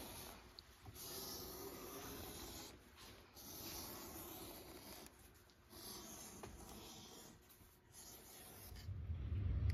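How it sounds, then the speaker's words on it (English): Number 3 edger skiving the sharp edge along a handmade leather belt, soft rasping strokes repeating in a slow rhythm, quiet and close, with no talking. "I'm going to use this Ron's Tools number 3 edger, and I'm going to remove this sharp edge the length of the belt"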